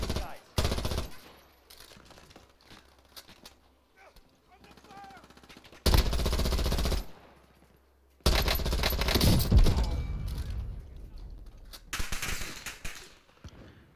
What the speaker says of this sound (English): They shooting.